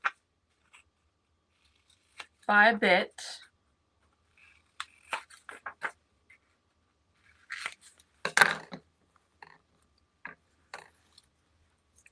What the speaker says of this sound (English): Then I'll just take my scissors and just cut